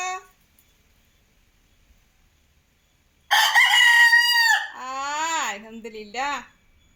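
A rooster crows loudly and close, a long cock-a-doodle-doo followed by a second shorter, wavering crow after a quiet pause.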